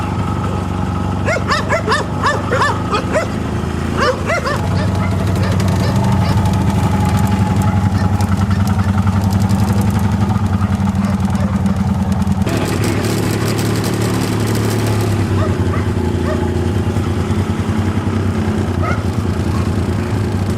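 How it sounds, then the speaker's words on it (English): A dog barks in a quick run of sharp yaps early on, partly masked by a loud, steady idling engine that continues throughout. "That's Tiger's puppy"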